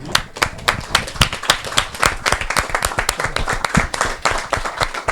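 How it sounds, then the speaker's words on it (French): A small audience applauding a guest at a film event, distinct close hand claps in a quick uneven rhythm, loud and sustained for the whole stretch with no talk over it. "On t'applaudit."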